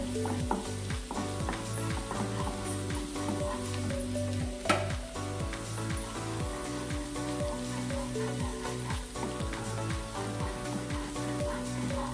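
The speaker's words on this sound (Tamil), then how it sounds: "எண்ணெய் நல்லா சூடானதும் இஞ்சி பூண்டு ஆட் பண்ணிக்கலாம். இதை நல்லா வறுத்து எடுத்துக்கலாம்." Ginger and garlic frying in hot oil in a pan, a dense, steady close sizzle with a run of rhythmic stirring clicks and one sharper knock partway through, no one speaking.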